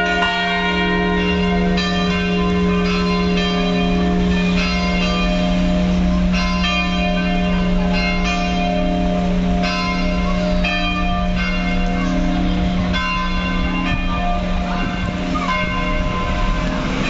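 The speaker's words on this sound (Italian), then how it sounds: "con le campane della chiesa di San Giovanni Battista." Church bells of San Giovanni Battista in Foggia ring in full peal, several bells overlapping in a steady, continuous clangour with rich sustained tones, loud and close, with no voices.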